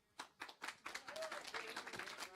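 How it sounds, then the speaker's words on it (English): Applause for a university esports team at a League of Legends match event, starting as a few separate claps that thicken into a moderate round of clapping, heard at some distance. "Lovely round of applause for our losers today, UQ"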